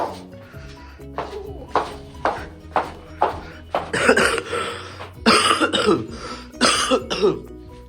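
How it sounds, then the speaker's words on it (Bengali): A person with a cold coughs repeatedly, about a dozen harsh coughs in irregular bursts, close by, growing heavier and more drawn out toward the end. "কাশি হয়েছে, ঠান্ডা লেগে গেছে।"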